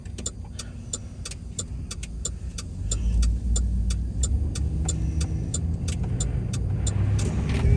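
Cars pass on a city street in Hattiesburg, Mississippi, their engines and tire noise building into a steady, fairly close roar with a low rumble that grows louder partway through, while faint clicking, like a turn signal, ticks evenly above.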